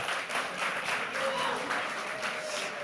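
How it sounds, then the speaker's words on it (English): An audience claps steadily for volunteers at a mathematics-magic stage show, a dense, even round of applause filling the whole stretch. "One more round of applause for our brave volunteers."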